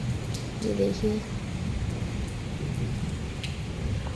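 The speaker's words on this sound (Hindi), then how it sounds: "ये बिन मौसम बरसात हो रही है, हद से ज़्यादा तेज़ बरसात हुई है" Heavy unseasonal rain: a dense, steady hiss of rainfall, with a brief faint voice-like murmur early on.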